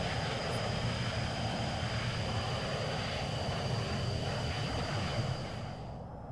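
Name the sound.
EF-24G jet aircraft flying, from video game VTOL VR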